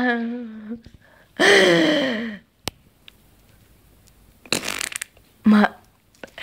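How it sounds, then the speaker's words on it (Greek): Several short, loud fart-like bursts among friends in a public spot, separated by pauses, with laughter and gasping noises around them. "Μ' αρέσει να με κλάνεις δημοσίες δηλαδή."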